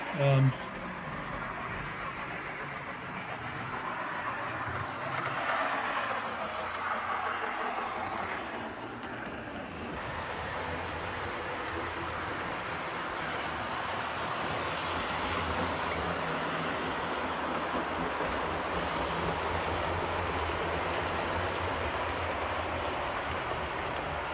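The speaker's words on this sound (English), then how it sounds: "This shows the McKean car running around my little layout." Smooth, steady running of a McKean model train car circling a small home layout, a continuous mid-level rolling rumble with faint clicks throughout, fairly close and unbroken, with some talk over it.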